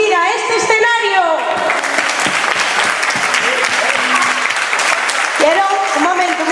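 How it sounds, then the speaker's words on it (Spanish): Sustained audience applause fills a hall at a ballroom dance event during a town festival in Villaviciosa, loud and dense throughout, with an announcer's voice and music briefly over it at the start and end. "Por eso pido un gran aplauso a todos los que se atrevieron a subir a este escenario."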